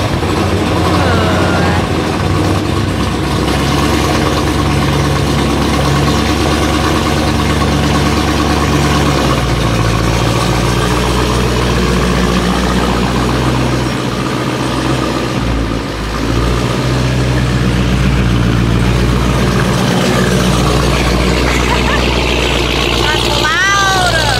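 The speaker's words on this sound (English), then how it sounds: "listen to the startup of this one." A 1000 HP Dodge Hellcat starts up and settles into a loud, deep, rumbling idle, the steady low drone running nearly continuously with a brief dip midway, while people talk over it.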